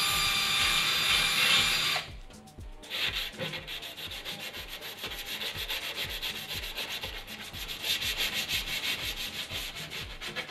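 A rusty car steering rack is sanded, first with a harsh, loud abrasive whine, then after a brief break with steady rhythmic rubbing strokes that continue to the end.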